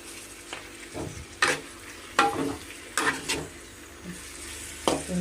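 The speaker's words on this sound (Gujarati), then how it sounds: "તો આવી રીતે હલાવી નાખી ભાતિયાથી" A spatula stirs poha in a sizzling pan, producing several distinct scraping strokes at irregular intervals over a quiet, steady frying hiss, close by and with no speech.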